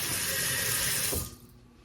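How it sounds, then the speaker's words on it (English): Tap water runs steadily into a pan used for cornbread dressing, a loud close rushing stream that cuts off after about a second and a quarter, leaving quiet room tone. "I'm going to put a little bit of water in here to get this out"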